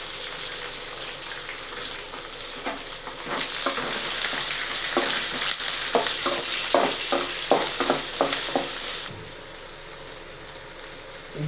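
Green chillies and onions hit hot tempering oil for idli upma, bursting into a loud crackling sizzle with rapid spattering pops and stirring, then settling to a softer, steady fry.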